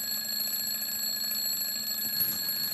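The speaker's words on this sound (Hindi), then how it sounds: "अलार्म बंद कर दो ना।" An alarm clock rings continuously in a bedroom, a steady high-pitched electronic tone held for the whole stretch with no voices over it.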